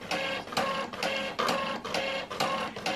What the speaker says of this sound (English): the printer itself now is printing a copy